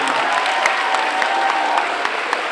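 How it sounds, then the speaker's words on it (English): An audience at a school anti-bullying presentation gives a round of applause, a steady sustained clapping with a few sharper individual claps standing out, heard without any speech over it. "Let's give Kelechi a big round of applause."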